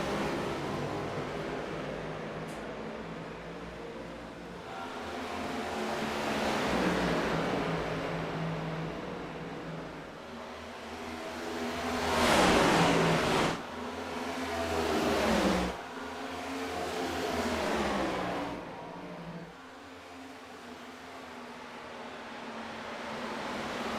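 Race cars at the PSCRL All Star Open roar loudly as the field accelerates off the green flag, engines swelling and surging with a peak as the pack passes close, then fading back to a steady drone.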